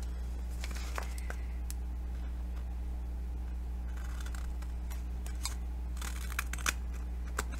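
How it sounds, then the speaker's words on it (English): Scissors snip through stiff cardstock in quick, quiet clicks and crisp cuts over a steady low hum. "And I'm using my icky scissors."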